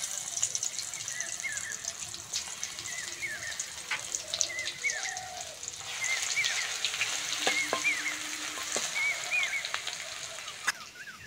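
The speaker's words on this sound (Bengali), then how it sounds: "মাছ ভাজার তেলে বেটে রাখা রসুন দিয়ে দেবো" Ground garlic paste drops into hot oil left over from frying fish and sizzles loudly and continuously up close, with steady crackling and occasional stirring for the whole stretch.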